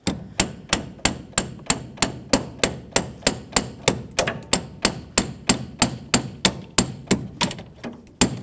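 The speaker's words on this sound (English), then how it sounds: "continue on with a small hammer. We're going to cause some light vibration" A small hammer taps metal in a steady, even rhythm, about two sharp ringing strikes per second, close and clear with no talking, loosening a joint from the power steering rack of a 1999-2006 Chevrolet Silverado 1500.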